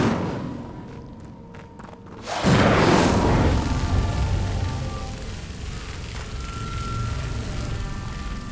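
An Incendio fire spell in Hogwarts Legacy bursts out with a sudden deep whoosh and boom, then settles into a long, loud roaring rush of flame that slowly fades while staying strong to the end.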